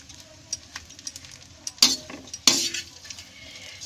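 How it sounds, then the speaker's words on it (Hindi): Desiccated coconut stirred and roasted in oil in a pan for gujiya filling, heard as soft scraping strokes with a light sizzle and two louder, sharper scrapes of the spoon against the pan partway through. "और इसमें हम नारियल का बूरा, इसको भी हम थोड़ा सा भूरा होने तक पकाएंगे।"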